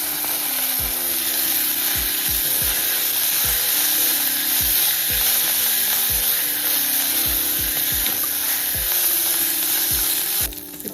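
Ground chaaru powder, coriander and curry leaves frying in hot oil in a pan for village-style tomato chaaru, a steady loud sizzle with repeated scraping stirs of a spoon, close and without talk.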